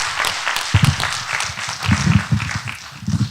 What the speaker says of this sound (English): Let's give a big round of applause to Fred.